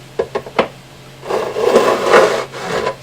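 A file works the fret ends of a Martin 00028 acoustic guitar. A few light taps come first, then a close, steady rasping scrape across metal and wood in smooth back-and-forth strokes.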